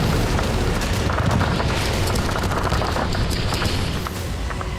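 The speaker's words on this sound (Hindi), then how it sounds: "हवा में उड़ रहा है एक छोटा एयरक्राफ्ट और रूसी फौज इसे गिराने के लिए फायरिंग कर रही है।" Russian troops fire guns at a small two-seat aircraft in flight. The gunfire is loud and continuous, a dense, rapid barrage of shots and booms that blur together with no pauses and no talking.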